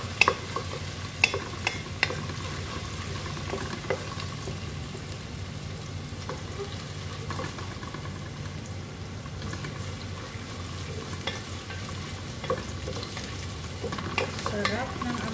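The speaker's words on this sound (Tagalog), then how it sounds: "Lagay ko na bawang at luya." Garlic and ginger for chicken congee sizzle steadily in hot oil while a utensil scrapes and clacks against the pan in irregular stirring strokes, close up.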